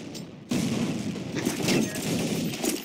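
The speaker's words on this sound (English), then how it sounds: "And throw a grenade." Muffled video-game grenade explosion: a sudden boom followed by a rumbling, crackling burst of blasts and scattered gunfire that stays loud for a couple of seconds.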